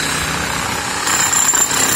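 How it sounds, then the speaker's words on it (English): A demolition hammer chipping a concrete floor on a construction site, a loud, steady, continuous rattling drone that holds throughout and swells slightly partway through, with no voices. "we are using demolition hammer here"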